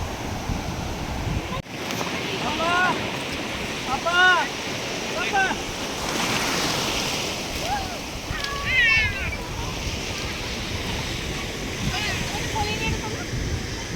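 Sea surf rolls steadily onto the beach at Bakkhali, a continuous wash of breaking waves heard throughout, with several voices, some high-pitched like children, calling and talking over it.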